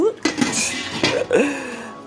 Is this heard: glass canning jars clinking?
yes